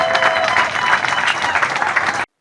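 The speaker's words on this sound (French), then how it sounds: "Je voudrais que l'on applaudisse très fort pour Inès Tema." An audience applauds loudly and steadily for a doctor at a ceremony, a dense wash of clapping that holds for about two seconds and then cuts off abruptly.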